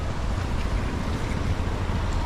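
Sea waves wash along the beach at Port Blair in the Andaman Islands, a dense, continuous roar of surf mixed with wind noise, steady and close with no voices.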